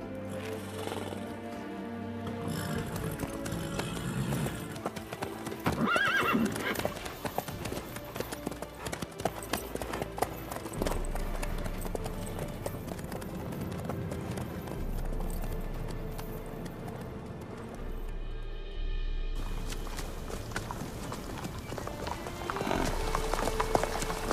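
Horse hooves clip-clop at a steady walking rhythm, fairly close, layered over a sustained musical score throughout.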